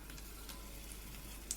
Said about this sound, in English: So once it starts to sizzle, keep it moving.